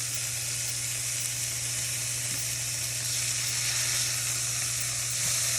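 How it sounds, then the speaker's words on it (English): Beef burgers for Gouda burgers sizzle steadily in a pan just after being flipped, a constant close frying hiss with a low hum underneath and no speech. "So my burgers have been cooking for several minutes. I'm gonna go ahead and give them a flip."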